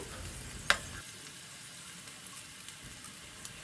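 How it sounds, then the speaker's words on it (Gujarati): Curry leaves sauté in a tempering over low gas, giving a soft, steady sizzle after a brief sharp crackle near the start, with a few small pops. "સાતથી આઠ લીમડાના પાન બધું જ પહેલાં વઘારમાં નાખવાનું છે અને ધીમા ગેસે તેને બે મિનિટ જેવું સાંતળવાનું છે"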